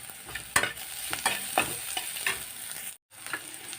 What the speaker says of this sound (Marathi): आता एक वाटी कांदा परतून घेऊया